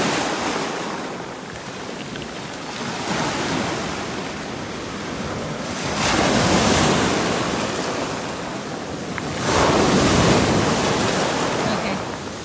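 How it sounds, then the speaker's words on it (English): Ocean surf washing and breaking over rocks at Dragon Bay Beach in Grenada, a broad steady roar that swells into louder surges around six and ten seconds, with wind noise on the microphone. "it was really pretty how the waves just like made a sound over all the rocks"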